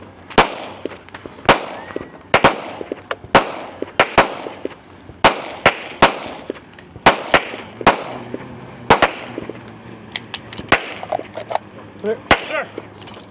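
Rifle shots at the shooting stage of a bike race, a steady series of sharp, separate cracks spaced about a second apart, close and loud, with a commentator talking between the shots.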